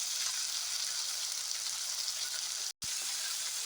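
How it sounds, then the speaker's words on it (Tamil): Tomatoes frying in a pan for fish curry give a bright, even sizzle that stays close and constant, broken by a split-second dropout near the end. "ஆமாம், தக்காளி நல்லா நல்லா வதக்கணும்."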